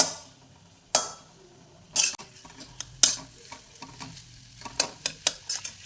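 A spatula stirs sabudana khichdi in a frying pan over hot oil. Sharp scraping strokes break through a low sizzle, spaced out at first and then quickening into a rapid run of scrapes near the end. No talking.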